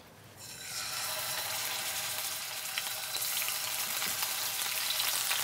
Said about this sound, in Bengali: চাকচিক্য মাছ আমরা গরম তেলে দিয়ে দিলাম